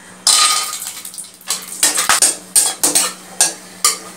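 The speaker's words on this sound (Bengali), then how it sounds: "ঘি দিয়ে আমি কাজুগুলোকে ভেজে নেব।" Cashews fried in ghee in a hot wok give bursts of scraping and clinking from a spatula against metal, with a light sizzle underneath, heard close and alone in uneven strokes.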